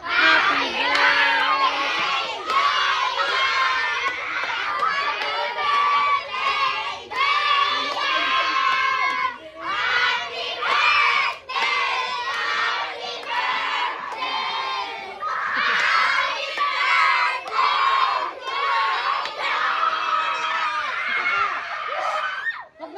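A crowd of Filipino children loudly shouts a happy birthday greeting together, with overlapping excited voices, cheers and laughter filling the whole stretch in continuous bursts.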